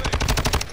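Fast automatic gunfire in Call of Duty Warzone 2.0, a tight burst of about eight evenly spaced loud shots, close and alone with no talking.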